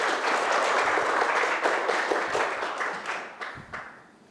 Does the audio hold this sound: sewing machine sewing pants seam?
no